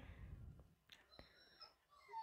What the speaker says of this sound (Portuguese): você ouviu o cachorro chorando, eu Scooby na minha janela